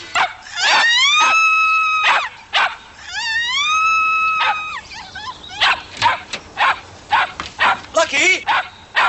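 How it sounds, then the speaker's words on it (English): Dog barking and whimpering indoors, with several high, sliding whines and yelps up front, followed by a run of short, sharp barks and yips close to the listener. "Oh, you bad dog, come on."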